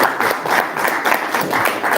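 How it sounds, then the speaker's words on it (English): An audience applauds distinguished guests at a campus event, loud and close, with dense rhythmic clapping from a crowd and no talk over it. "We're going to round of applause."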